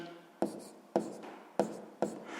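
Pen writing an answer by hand on paper during a sixth-grade maths exercise: four distinct scratchy strokes, each a sharp onset tapering off, close and fairly quiet, with no talking.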